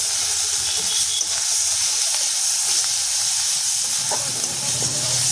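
Spice paste with salt and turmeric sizzles in a pan, a steady close hiss that holds evenly throughout with no voices over it.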